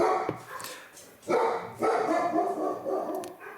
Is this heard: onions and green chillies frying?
no